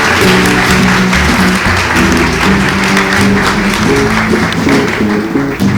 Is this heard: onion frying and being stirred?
no